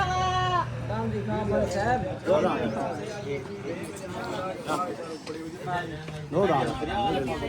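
A young Makhi Cheeni billy goat bleats repeatedly, its wavering cries close by and mixed with people talking over it.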